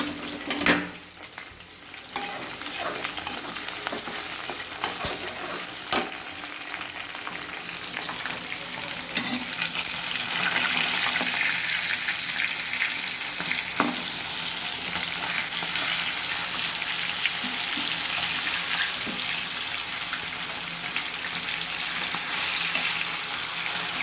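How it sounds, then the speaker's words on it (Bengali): Onions fry in a pan with a constant close sizzle and occasional scrapes and knocks of stirring, growing a little louder after the first seconds; no talking. "এদিক দিয়ে পেঁয়াজ ভাজা হতে থাকুক"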